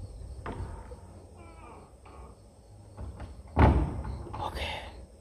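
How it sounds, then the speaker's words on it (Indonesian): Wooden door in an old haunted house in Java is swung shut with a soft creak and a heavier thud, with a few smaller knocks around it and a person talking quietly nearby. "Kita tutup dulu ya pintu yang sudah kita buka"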